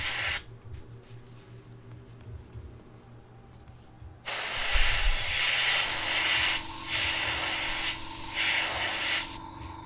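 Aerosol spray paint hisses onto a Tamiya Volvo FH12 1/14 scale RC truck model: a quieter stretch, then a long, loud, steady spray with brief dips, close to the microphone.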